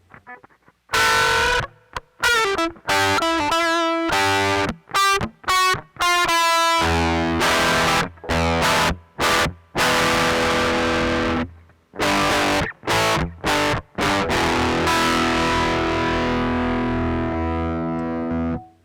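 Heavily distorted electric guitar played straight through a grit effects pedal on channel 2 with gain near 2, loud chords and riffs in choppy bursts broken by short gaps, sustained ringing passages toward the end, no talking.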